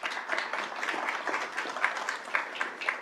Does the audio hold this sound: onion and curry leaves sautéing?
no